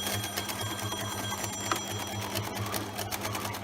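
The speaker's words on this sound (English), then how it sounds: "A reminder to always turn your needle in and to reverse stitch at the start and the end of your stitching." A sewing machine runs steadily while stitching apron fabric, its rapid, even mechanical chatter close and continuous for a few seconds with a faint background hum and no talking.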